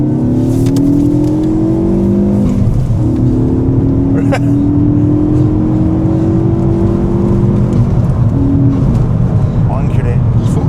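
A Ford Focus MK3 hums along on a test drive, its engine note rising through gears with a steady road roar, while someone talks over it.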